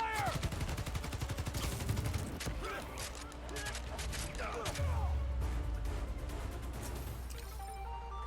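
Gunfire in the Spider-Man: Miles Morales video game, a rattle of rapid shots in the first seconds followed by heavier crashing and mechanical rumble, with game voices over it.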